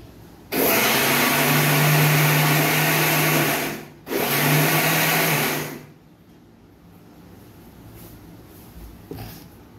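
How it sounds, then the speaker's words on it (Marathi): A mixer grinder blends sugar with freshly extracted mango juice in two loud, steady whirring bursts, the first about three and a half seconds long and the second briefly following after a short pause, then quiet room noise. "आता हा मिक्सरमधनं छान काढून घेतलेला आहे, म्हणजे गुर्र करून घेतलेला आहे साखर आणि आपण काढलेला रस"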